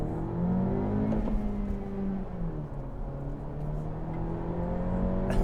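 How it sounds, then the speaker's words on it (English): A 2022 Honda Civic Hatchback with the 1.5 turbo pulls away in first gear, its engine note close and steady as the pitch climbs smoothly, with no talking. "Starting off in first gear and just let's roll."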